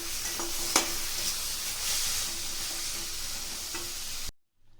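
Carrot halwa with milk cooking in a pan, giving a steady loud sizzle and bubbling hiss with a couple of sharp spoon knocks against the pan, ending abruptly in silence.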